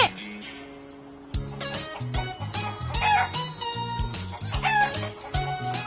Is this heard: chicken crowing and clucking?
yes